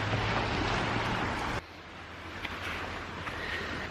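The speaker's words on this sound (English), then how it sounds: "the waves are super loud or it's really windy" Loud ocean waves wash onto the shore amid strong wind, a dense continuous roar that drops slightly partway through and then continues steadily, with no talking.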